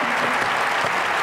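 An audience at an evening featuring Angela Davis, Ossie Davis and Ruby Dee applauds Ruby Dee: a brief, loud burst of dense, continuous clapping from a sizable crowd.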